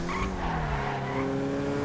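A Karin 190z sports classic in GTA Online skids with loud, close tyre squeal over a revving engine, a brief sustained slide without any talk.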